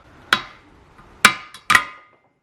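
Three sharp metallic snaps spaced about a second apart, close and loud with quick decay, as a side cutter gripping the threads levers a valve stem out of a steel wheel rim. No talking.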